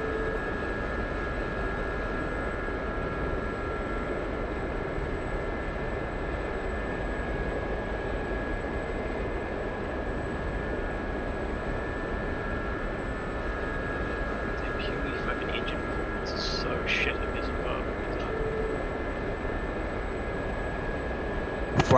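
A Gazelle helicopter in DCS World flies at high altitude with icing, giving a steady continuous engine and rotor drone with a few faint clicks near the end, alone.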